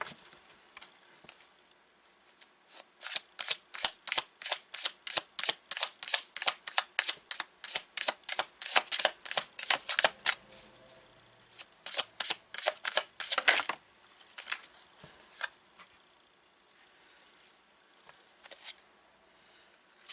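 Tarot cards being shuffled by hand, close and crisp, in rapid riffling bursts with short pauses between rounds and quieter taps near the end.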